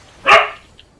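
A single sharp bark from a pet dog named Penelope, loud and close, rising quickly and trailing off within half a second, with a faint small yip after it in an otherwise quiet room.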